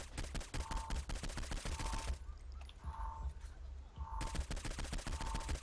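Rapid automatic gunfire in Saints Row 4, a dense rattling stream of shots that breaks off briefly in the middle and then resumes at full intensity.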